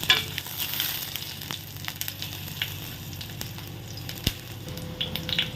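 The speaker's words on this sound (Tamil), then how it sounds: "இப்போ இதை நல்லா வதக்கிக்கலாம்" Ginger pieces and two green chillies sauté in a pan for mint chutney, giving a continuous close crackling sizzle with occasional stirring scrapes.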